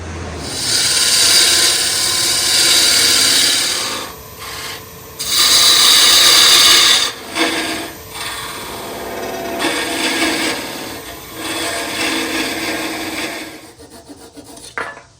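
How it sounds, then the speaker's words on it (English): A carbide parting tool parts off a wood turning on a lathe, giving a loud, close, continuous scraping rasp that surges and fades in several bursts before cutting out at the end. "I've got a carbide parting tool, so I'm going to part off right here."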